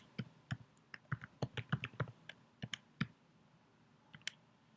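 Keys clicking on a computer keyboard as a list is typed into Mathematica, a quick uneven run of close, crisp taps with short pauses, quiet and alone without talk.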